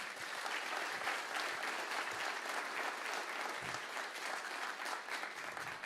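A church congregation applauds steadily and loudly, a dense continuous wash of clapping from many hands with no pauses and no speech over it.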